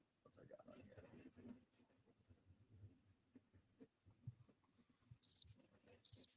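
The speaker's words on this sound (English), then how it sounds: "I got some crickets." Two short bursts of high-pitched cricket chirping from a soundboard, played near the end over a quiet stretch of soft murmured talk at a football watch party.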